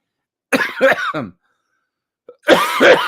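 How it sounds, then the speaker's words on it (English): Two separate bursts of harsh coughing, close and fairly loud, with a silent pause between them and no talking. "Still fighting a cough, not always hitting my cough button"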